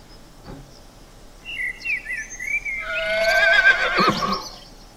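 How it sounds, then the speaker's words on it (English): A zebra gives a rising, braying call that builds into a loud, harsh, squealing whinny, with faint chirping before it. "zebra,"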